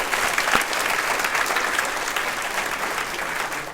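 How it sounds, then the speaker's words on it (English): Audience applause for event sponsors at a regional business luncheon, a full room clapping steadily at moderate distance, slightly stronger at first and then holding even. "Give all of our sponsors a big round of applause"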